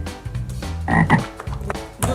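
A frog croaks close and clear in a couple of short, throaty bursts with brief gaps between them.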